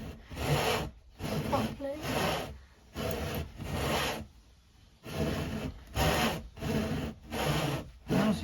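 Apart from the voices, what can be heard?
hand saw cutting wood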